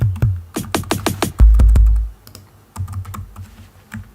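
Keys clacking on a computer keyboard used for musical typing in Logic, a quick burst of close, loud taps followed by a heavier press and scattered softer strokes, with no talking.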